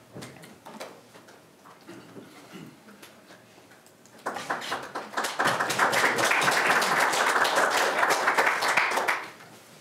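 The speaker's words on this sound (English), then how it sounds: "Oh, you got a round of applause as well" An audience at an agritech talk gives a warm round of applause for a speaker coming to the front, building from scattered claps into steady, dense clapping that lasts several seconds before cutting off.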